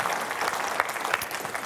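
A church congregation at a Sunday service claps together in steady, sustained applause that fills the room, with no voices standing out.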